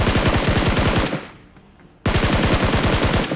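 Rapid automatic gunfire in a battle royale shooter game, loud sustained bursts that stop for about a second and then resume just as intensely, with no talking.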